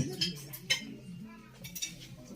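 Cutlery clinks against plates as meat is carved at the table during a Kazakh betrothal feast: a few light, scattered metallic taps over quiet room noise.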